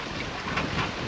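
Strong northeast wind gusting around a sailboat under way through the Everglades off southwest Florida, a steady broadband roar with surging gusts and water wash, no voices.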